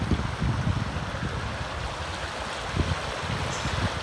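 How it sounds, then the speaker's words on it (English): A small river in a little city flows steadily with a broad, continuous watery rush, close to the microphone, with some wind buffeting and no voices. "if you listen carefully, you can hear the lovely river."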